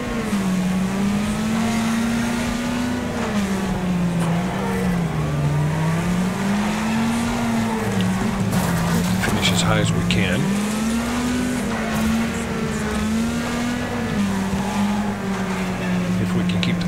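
Racing car engine in the Wreckfest video game, a steady droning engine note wavering in pitch as the car is driven hard, with someone talking over it throughout.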